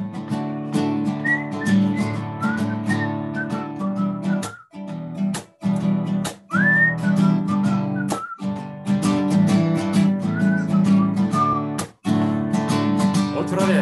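A person whistles a wandering melody, bright and close, over a steady humming tonal background, with a few brief pauses between phrases.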